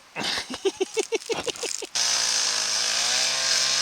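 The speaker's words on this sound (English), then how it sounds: "Chainsaw time." A chainsaw sputters in a quick series of revving bursts, then settles into a loud, steady, high-pitched buzz close by as it cuts a tree during a moose hunt.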